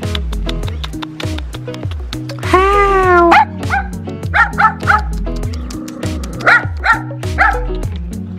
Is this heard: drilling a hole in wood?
no